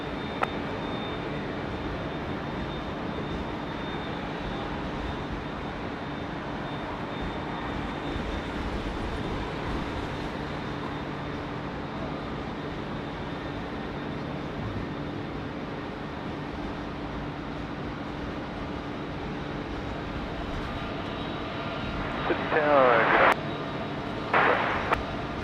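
Malaysian 122 airliner taking off from runway 16 right at Sydney Airport: a steady, broad jet roar heard from a distance, holding level throughout, with a brief louder clatter near the end.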